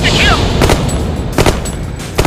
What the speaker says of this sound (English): All units open fire. Open fire. Shoot to kill.